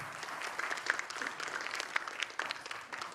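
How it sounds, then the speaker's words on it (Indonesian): Audience applause from a crowd of law students at a political talk, dense steady clapping throughout, fairly close and loud with no speech over it. "Kayak ngerti aja lu tepuk tangan."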